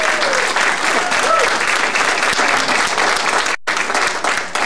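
A church congregation gives a round of applause, a loud, dense wash of many hands clapping that holds steady, breaks off for an instant near the end, then resumes.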